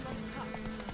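Horse hooves clip-clop in The Witcher 3 video game as a steady, moderate-level patter over about a second, with a faint undertone of game ambience.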